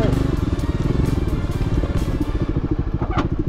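A motorcycle engine runs loud and close while the bike sits in the middle of a river, its rapid steady thumping pulses continuing throughout with a clattering edge.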